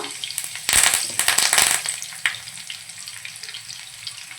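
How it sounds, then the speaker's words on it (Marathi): Crushed garlic and curry leaves drop into hot oil in a pan, bursting into a loud, crackling sizzle that peaks briefly and then settles into a steadier, softer frying hiss close by. "पॅनमध्ये बघा तेल छान गरम झालंय, त्यामध्ये आपण ठेचलेला लसूण सोडूया, कढीपत्ता घालूया"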